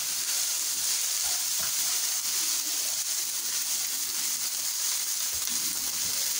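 Shredded cabbage fries in a pan for egg rolls, giving a steady, even sizzle with faint stirring scrapes running throughout at close range.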